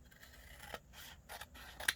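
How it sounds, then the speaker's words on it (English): Scissors snip through a paper envelope, cutting along its top and bottom edges, with a few soft rubbing and scraping sounds of paper and a sharp final cut near the end, close and fairly quiet. "we're going to cut it on the top and bottom"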